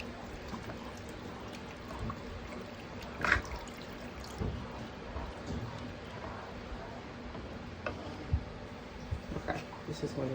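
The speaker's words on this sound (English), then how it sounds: "Second thing of water going in, slowly." Water is poured slowly into a cooking pot during meal prep, a soft, continuous trickle and splash heard close and faint, with a few louder splashes along the way.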